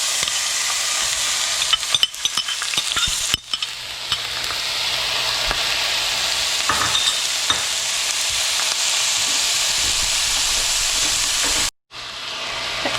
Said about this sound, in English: now that I got the pan hot, we're gonna place in the peppers and onions